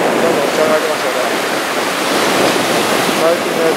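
Waves break and wash continuously on the sandy beach at Zaimokuza, Kamakura, on a morning after strong wind, a steady broad roar of surf mixed with gusty wind noise on the microphone.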